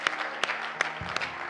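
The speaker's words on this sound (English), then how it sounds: "Clap your hands unto the Lord." A worship congregation claps along at a Sunday family service: steady, rhythmic handclaps sounding through a hall, with a low sustained organ or keyboard tone underneath.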